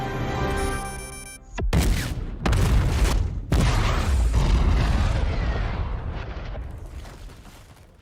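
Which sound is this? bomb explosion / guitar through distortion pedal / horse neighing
bomb explosion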